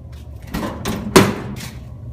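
The metal door of a wood stove heating a home swings shut with a single solid clunk, preceded by a couple of softer scraping knocks, close by with no talking.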